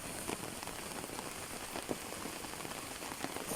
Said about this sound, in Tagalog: malakas yung ulan, bagyo